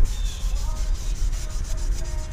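A soft Brillo pad loaded with purple powder scrubs a car part on a Mitsubishi 3000GT VR4 twin turbo, giving a steady close-up rasping rub that runs on without a break.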